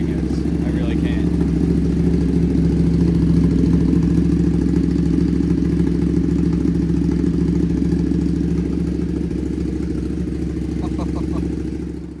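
A 2023 Ducati Panigale V2 fitted with a full titanium VanDemon exhaust idles steadily, a loud, close, deep rumbling burble that holds for the whole stretch without a break.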